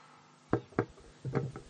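Knocking on a wooden door: two sharp raps, a pause, then a quicker cluster of knocks, fairly close and alone with no talk.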